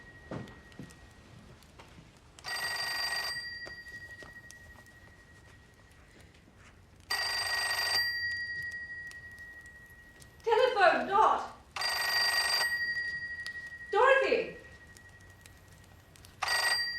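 An old-fashioned telephone bell rings in repeated bursts, its pairs of rings spaced by pauses, with brief voices and movement between the rings in a quiet room.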